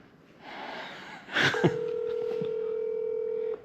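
A telephone call placed to a man driving a bulldozer: a rapid run of keypad dialing tones, then a steady, fairly loud ringback tone holding for about two seconds, with faint background noise.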